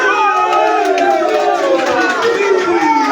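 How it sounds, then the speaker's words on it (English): Crowd at a live pool match in Mchana Pub and Grill, Nairobi, Kenya, cheering and chanting a slogan for a player named Caesar, a dense continuous roar of many voices with rising and falling shouted tones throughout. "the crowd is going crazy about Caesar. We are not biased here. They are shouting the famous Caesar slogan"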